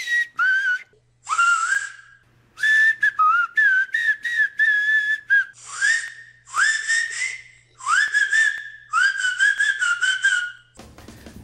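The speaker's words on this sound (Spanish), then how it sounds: "existen en todo el mundo personas que tienen el don de silbar como si fuera realmente un instrumento musical" A person whistles a melody as if playing an instrument, in clear, separated phrases of rising and sliding pitched notes with short pauses, close and alone.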